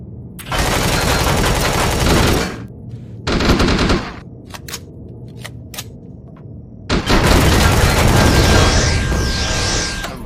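Gunfire in the space survival game Empyrion Galactic Survival: loud sustained automatic bursts, a pause with a few sharp single shots, then another long heavy volley, no talk.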